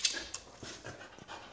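A nine-year-old dog pants in short, quick breaths close by, the soft rhythmic huffs repeating over about a second and a half with a faint whimpery edge.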